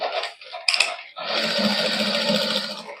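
Sewing machine running a topstitch along chikan-embroidered fabric joined to shirt material: a brief stop-start whir, then a steady, close, continuous mechanical buzz of stitching to the end.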